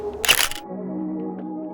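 A single sharp shutter-and-flash burst from a Nikon D7500 at a photo shoot, loud and brief near the start, then fading into a steady low hum with faint ticks.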